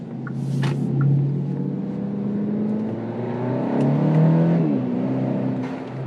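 Hyundai Elantra N Line fitted with a JB4 tuner accelerating, a loud, steady engine drone that rises in pitch as it pulls, with a brief dip and shift partway through before climbing again.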